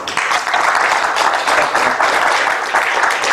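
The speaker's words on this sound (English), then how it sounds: "Let's give a big applause." Dense, steady applause fills the room from a seminar audience at a joint APLN-EAF session on North Korea's nuclear program, sustained and even from start to finish at close range.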